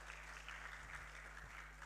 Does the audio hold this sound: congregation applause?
yes